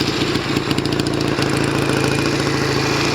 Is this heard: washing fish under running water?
no